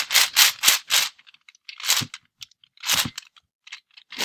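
A stiff 6x6 puzzle cube that is not yet broken in, its layers turned in quick crunchy clicks and rattles, several rapid turns followed by sparser ones, close and fairly quiet.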